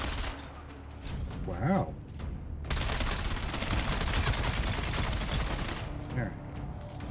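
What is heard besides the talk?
gunfire in a video game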